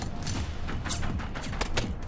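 Robot gunfire in the video game Generation Zero: repeated sharp gunshot bursts and thuds over a dense, steady background of game noise, fairly loud and continuous.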